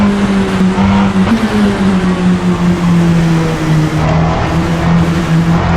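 LMP2 prototype race car engine in Assetto Corsa, a steady loud drone with a sustained pitch line that slowly falls and rises, running continuously with no voices.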